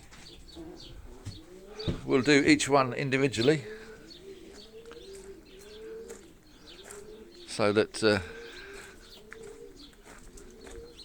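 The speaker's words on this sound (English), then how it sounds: "This is just the young birds in the stock loft." Young racing pigeons in a stock loft coo in soft, repeated rolling calls close by, with a few louder bursts of cooing and fluttering, while someone talks over them.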